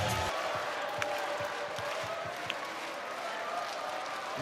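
A volleyball crowd on its feet at the Champions League final between Conegliano and Scandicci, a continuous roar of clapping and cheering from a packed arena with a couple of sharp thumps standing out.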